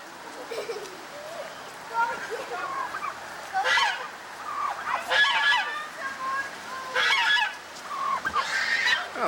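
Turkeys at a deer park give repeated honking gobble calls in several bursts, fairly close, while people talk nearby.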